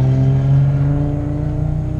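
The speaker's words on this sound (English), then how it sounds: "Just a nice Supra right there" A Toyota Supra rumbles close by with a deep, steady engine note that pulses and fluctuates slightly as it drives past.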